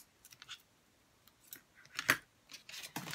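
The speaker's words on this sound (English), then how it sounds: "I just have to take my scissors and cut it." Scissors snipping through adhesive tape, a series of short, crisp close-up cuts and clicks spread unevenly over a few seconds in a quiet room.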